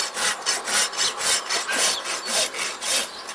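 A big rasp filing a Clydesdale horse's hoof, close rhythmic scraping strokes repeating about three times per second, with no talk.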